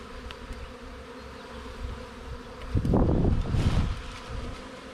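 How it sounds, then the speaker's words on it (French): A honeybee swarm hums in a steady, dense drone, swelling louder and closer for a couple of seconds as the swarm stirs, then settling back. "Ouais, petites abeilles."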